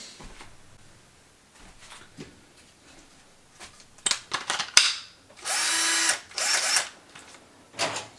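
A Makita DF330D 10.8V cordless drill, just reassembled with its battery back in, whirs in two short high-pitched bursts after some handling clicks and rattles.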